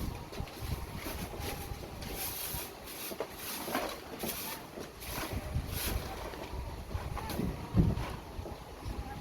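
Wind gusts at a beach house construction site in the Philippines blow dust around, a rough, uneven rushing and buffeting across the microphone with faint scattered knocks and no speech.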